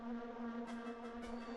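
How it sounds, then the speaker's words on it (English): Steady insect buzzing from bees in the video game Jersey Devil, a continuous droning hum held at even level with no talking. "Man, there are just way too many of these bees."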